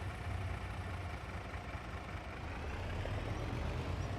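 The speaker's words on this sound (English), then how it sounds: "Let's get my truck over here." A truck idles in Farming Simulator 25 with a steady, continuous low engine rumble that stays even and fairly loud throughout, with no voices over it.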